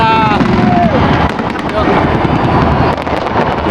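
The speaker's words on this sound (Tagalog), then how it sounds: "Burj Khalifa fireworks." New Year's Eve fireworks at Burj Khalifa crackle and boom continuously in a loud, dense barrage, with crowd voices and wind noise mixed in underneath.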